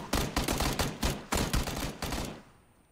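Rapid bursts of automatic gunfire from a PUBG match on Xbox One, loud and close, several sustained volleys in quick succession before trailing off into quiet.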